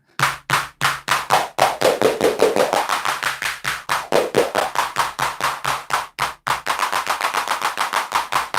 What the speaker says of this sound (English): We have a clap.